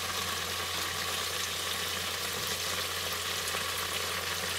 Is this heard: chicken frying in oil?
yes